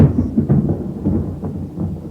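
A summer thunderstorm on the Llano rumbles in low, heavy waves of thunder with a rain-like hiss, loud and continuous and free of voices.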